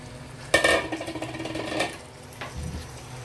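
Chicken poured into a pan of sizzling spiced masala for tandoori butter chicken: a sudden loud clatter and burst of sizzle as the pieces drop in, then a bubbling hiss that fades, with a second softer scrape of pan.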